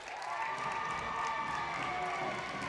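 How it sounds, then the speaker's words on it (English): Steady crowd noise fills a high school girls basketball gym during a district tournament game between Raceland and Lewis County, a continuous roar of voices and cheering with no break. "Lewis County, pretty good crowd, as they always bring a good crowd"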